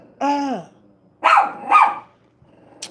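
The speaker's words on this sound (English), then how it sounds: "A little hard-headed dog. A hard-headed dog." A dog barks and growls in short bursts near the microphone: one drawn-out yelping bark, then two rough growling barks, with a brief quiet pause between them.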